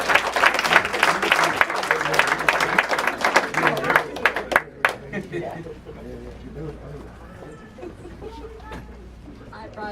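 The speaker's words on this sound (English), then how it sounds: "And keep that applause going for your next comic" A comedy club crowd claps loudly as comic Kiely Healey is introduced; the dense applause lasts about four seconds, then thins and fades to scattered claps under quieter talk.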